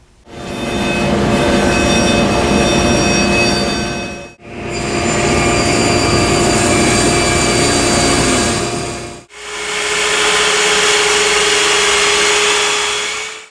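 A power saw ripping a wooden board lengthwise into two 3.5-inch strips for table side rails, a loud sustained whining roar in three long passes with brief gaps between them.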